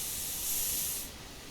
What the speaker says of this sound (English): So, I'm going to spray up.